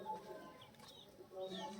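Faint, soft coos come from a pair of Madrasi high-flying pigeons released from their cage at a Kolkata loft, a few quiet murmuring calls over low background hiss.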